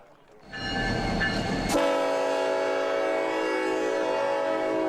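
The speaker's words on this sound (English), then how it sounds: "The train is not far from the Kennedy Space Center." A train rolls along Florida's East Coast near the Kennedy Space Center, its rumble building until a loud sustained horn blast sounds close by and holds steadily over the running noise.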